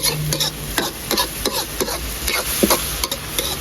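Frog curry being stir-fried dry in a pan gives a continuous sizzle broken by repeated scraping strokes of a spatula at an uneven rhythm, close and clear with no speech.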